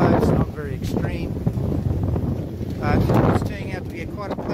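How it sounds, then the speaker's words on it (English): Steady, strong wind buffets the microphone aboard a Hunter 36 sailboat, a constant roaring rush with voices speaking under it. "the wind is nice and strong"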